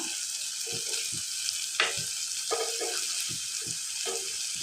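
Prawns frying in a pan, a steady close hiss and sizzle with intermittent soft pops and spatters through the clip.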